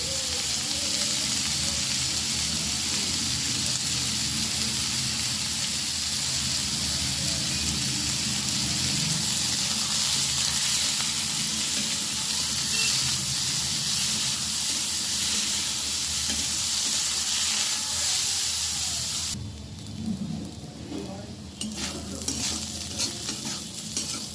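Chopped onions sizzle loudly in a pan of hot oil seasoned with five-spice, a dense continuous frying hiss up close that drops suddenly near the end to quieter crackles and occasional stirring sounds.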